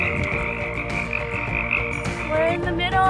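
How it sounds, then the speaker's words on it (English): A chorus of frogs croaks near water on the Trans-Catalina Trail in California, a dense steady trilling that holds loud and close for the whole span, with no talk. "every time we hear frogs, there's gonna be water somewhere around"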